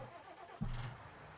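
A John Deere tractor engine in Farming Simulator 19 starts partway through with a low, rumbling note, then holds a steady mid-pitched hum over a soft background drone.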